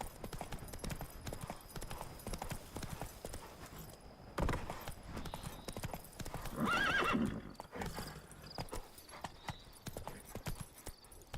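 Roach the horse from The Witcher 3 gallops with steady rapid hoofbeats, close and continuous, with a whinny-like burst partway through.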